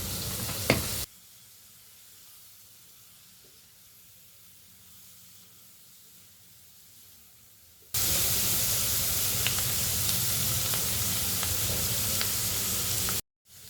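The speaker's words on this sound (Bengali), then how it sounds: "সুন্দর করে একদম ভাজা ভাজা করে নিব" Shrimp sizzle in hot oil, with a steady hiss from a quiet stretch that jumps abruptly to a loud, continuous frying roar in the last few seconds.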